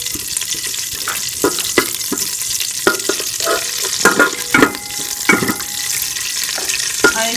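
Fennel seeds roasting in a pan for jaggery rice, a close sizzle and dry rustle under frequent scraping stirs that land in irregular bursts.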